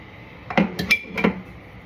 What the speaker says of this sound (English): Start mixing and folding that in